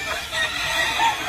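Gamecock roosters of the Sweater and Yellow Leg Hatch lines cluck and crow together in a farm corral, a dense, steady chorus of fowl calls with no clear talk over it.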